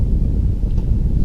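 Wind buffets the microphone at a model airplane flying field, a loud low rumbling roar gusting steadily without pause and with no voices over it.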